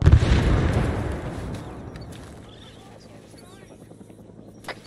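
A frag grenade explodes in the video game Arma 3, a loud close boom at the start that rolls off into a long fading rumble, with faint voices over the tail.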